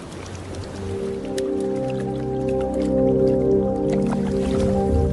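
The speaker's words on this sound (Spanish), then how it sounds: "Aquí las burbujas estallan bajo el hielo." Air bubbles burst beneath Greenland glacier ice in a close, steady crackle of tiny pops and drips over a low watery hum with faint tonal drones, loudening slightly midway.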